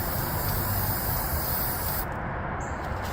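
Workable fixative sprays steadily from an aerosol can as a loud, close, continuous hiss that stops abruptly near the end, with no talking.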